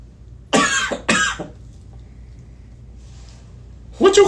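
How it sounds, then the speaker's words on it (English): A man coughs twice in quick succession, loud and close, then falls quiet before a voice briefly starts up at the end. "What you coughing, Pop?"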